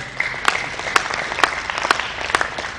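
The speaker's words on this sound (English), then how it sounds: "Please clap for him." Conference audience at a financial fraud and cyber crime event clapping, a crowd's patter with a few louder claps landing at a regular beat, moderately loud and fairly near.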